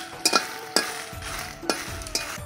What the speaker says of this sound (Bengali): রসুনটাও দিয়ে দিচ্ছি, একসাথে ভেজে নিব।